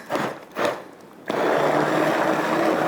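A blender purees beef haleem. After a couple of brief bumps, the motor kicks in with a steady, loud whir that runs without a break to the end.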